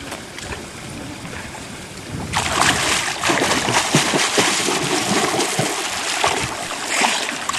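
A person dives into water with a sudden loud splash, then a sustained rush of churning, sloshing water close by after a quieter stretch of outdoor ambience, with no talk.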